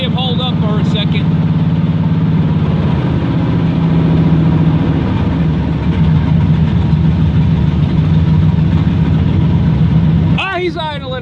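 A car engine idles steadily and loudly after a cold start, with a low, rough rumble, cutting out near the end.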